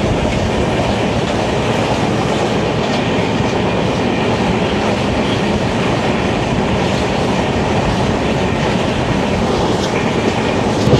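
The Tamralipta Express, a Howrah to Digha train, rumbles along loudly with steady clickety-clack of wheels on rails and constant carriage noise throughout.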